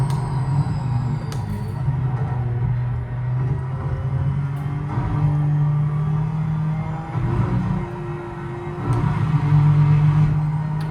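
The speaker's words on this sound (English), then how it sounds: "I love the sound of the rumble strips." A race car running over rumble strips in Project Motor Racing gives a loud, continuous low droning rumble that swells and dips slightly without pause.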